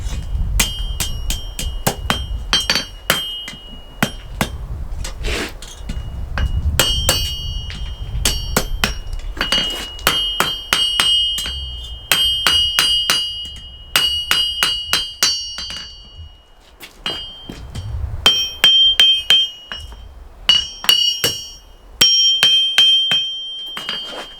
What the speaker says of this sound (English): Then we take it over on the edge of the anvil and we just bend it over.